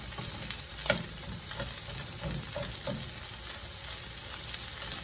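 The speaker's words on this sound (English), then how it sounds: "I'm going to go ahead and put my onion in there and let it start cooking in this." Chopped onion frying in a skillet for pork fried rice, a steady, close sizzle with occasional soft stirring scrapes and pops throughout, no talking.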